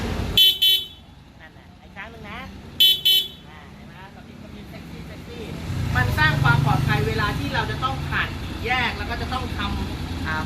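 A Yamaha X-ADV 750 motorcycle horn gives two pairs of short, loud honks, followed by engine and traffic noise with someone talking over it.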